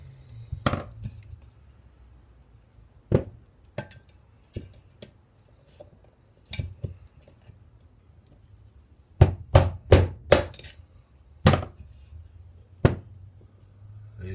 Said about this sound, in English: So, plastic hammer. Put the screwdriver in there